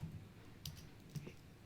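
Keys on a desktop computer keyboard are tapped while an annotation is typed. A few soft, scattered clicks sound faint and close against a quiet room hum.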